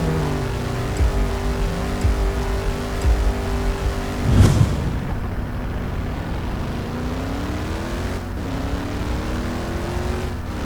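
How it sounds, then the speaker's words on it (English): A loud car engine in the Midnight Racing: Tokyo racing game roars steadily, rises to a sharp revving peak, then drops and climbs through gear shifts, staying close and continuous without talk. "it's a really loud car in my opinion"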